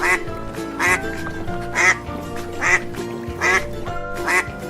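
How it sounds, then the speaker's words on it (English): A duck quacks repeatedly in short, loud bursts spaced about a second apart, set over a light musical backing. "a baby duck is a duckling."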